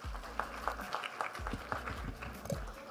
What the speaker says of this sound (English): Can we have a huge round of applause for that pitch?